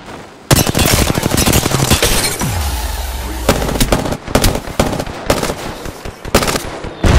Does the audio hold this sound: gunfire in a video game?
yes